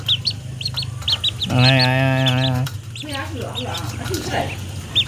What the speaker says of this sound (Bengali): হাঁসের বাচ্চা কয়টা যে খাবার দেওয়া হলো